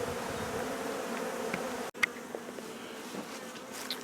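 Honey bees buzz steadily around hive boxes during a hive union, a dense continuous insect hum with a brief dropout midway and faint outdoor noises.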